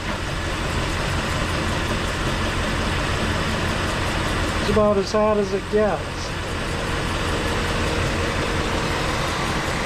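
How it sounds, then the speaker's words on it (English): A 1966 Ford Galaxie 500 convertible engine idles steadily beneath someone talking close by, a continuous low hum with no change in speed throughout. "It's been sitting here idling for a while."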